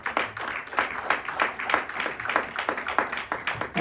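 A church congregation applauding together during a Sunday worship service, a steady rhythmic clapping that carries on for several seconds in a fairly even, moderately loud pulse.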